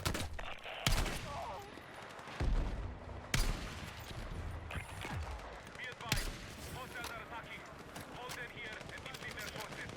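Sniper and rifle fire in Battlefield 6, with several sharp loud shots spaced a few seconds apart over continuous battlefield noise and speech.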